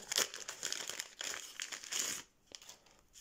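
Crinkly plastic rustling as a Panini football sticker packet is torn open, dense crackles in close bursts for about two seconds, then a brief pause and a few sharper crinkles.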